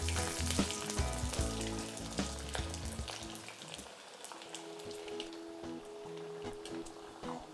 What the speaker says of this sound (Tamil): இப்போ எண்ணெயில் போட்டு பொரிச்சிக்கலாம்.